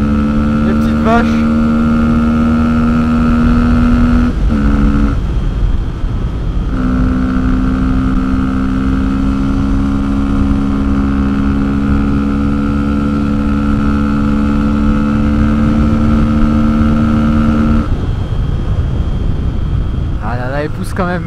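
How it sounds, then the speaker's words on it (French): Fantic 125 motorcycle ridden on a country road at speed, a loud steady engine drone with rising pitch through the gears, brief dips at shifts, and wind rush throughout. "Quand même, j'adore le bruit de cette moto."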